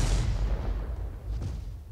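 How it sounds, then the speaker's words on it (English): Tank cannon fire in a World of Tanks-style game: a heavy low boom that opens the clip and rumbles on, with a fainter second report near the middle, loud and without talk. "somebody's firing in that direction"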